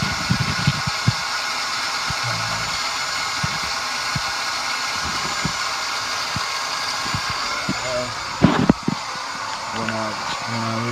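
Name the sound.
car with faulty starter making continuous noise after battery hookup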